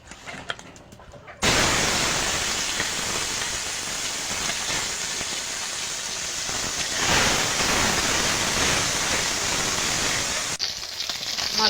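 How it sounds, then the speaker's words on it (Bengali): Singhi fish rubbed with salt and turmeric frying in oil in a kadai: a loud, dense, steady sizzle bursts in after a quiet second and a half, holds for about nine seconds, then drops away. "মাছটা ভেজে নেব।"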